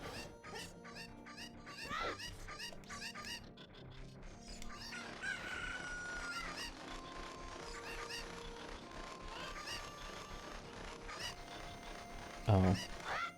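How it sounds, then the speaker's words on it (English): Chickens clucking in the video game Zelda: Ocarina of Time, busy repeated clucks and squawks alongside game music and effects, with a sharp crow near the end, continuous and moderately loud. "Get all these chickens to their pen so I can get the first bottle."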